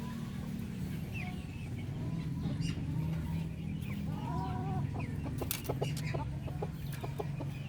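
Darag native chickens, several hens and a single rooster, cluck and chatter in a steady, moderately close stream, with occasional rising calls standing out from the quiet flock murmur.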